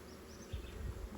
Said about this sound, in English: I can hear the humming off of the swarm trap